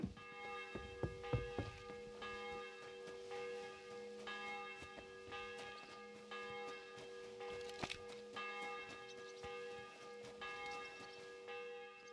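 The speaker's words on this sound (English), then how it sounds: "The bell's ringing for Hans the 5th time." A church bell tolls repeatedly in the video game Kingdom Come: Deliverance 2, evenly spaced ringing strokes with lingering hum, moderately distant, plus a few faint footstep-like knocks early on.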